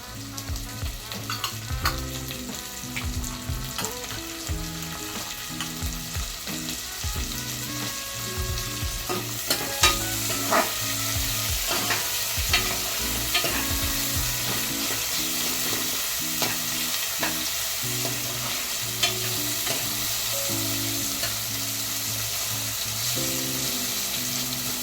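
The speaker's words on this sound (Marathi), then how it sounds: "कांदा आणि टोमॅटो आपल्याला शिजवून घ्यायचं आहे चांगला" Chopped onion and tomato fry in a pan for a bottle gourd curry, with a constant loud sizzle and repeated clinks and scrapes of stirring throughout.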